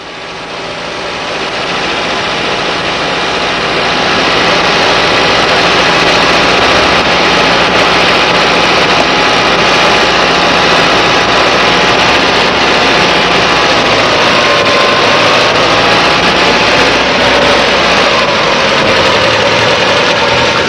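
Car engine running steadily at idle during idle speed adjustment on a Brosol 2E carburetor, a loud continuous hum with a slight pitch shift near the end, no talk.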